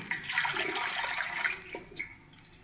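Water pours steadily into a metal pressure cooker, a soft splashing rush that tapers off after a couple of seconds, with no voices.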